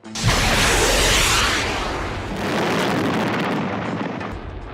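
Loud rocket blasts and rushing explosive roar surround a Russian turtle tank in combat, one big burst opening into sustained thundering rumble that swells again midway.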